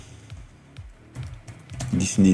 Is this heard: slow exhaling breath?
no